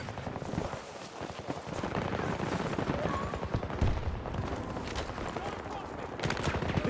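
Rapid automatic gunfire and bursts of shots in the shooter game Battlefield 2042, dense and continuous over the whole stretch, with a voice talking over the firing.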